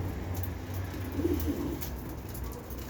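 Posta breed pigeons coo softly in a loft, a few low throaty murmurs rising briefly over a steady background hum, faint and close with no speech.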